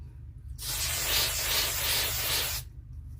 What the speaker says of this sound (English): is my favorite hairspray. Rave 5X Mega Freeze.